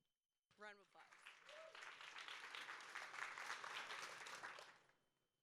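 An audience at a start-up showcase bursts into applause for a presenter, a dense, moderately distant crowd clapping that swells and holds for several seconds, then stops abruptly, with a brief voice just before it.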